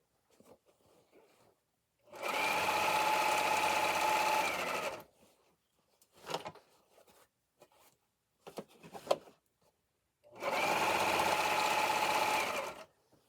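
A sewing machine stitches a fabric apron in two steady whirring runs of about three seconds each, separated by quiet clicks and fabric handling.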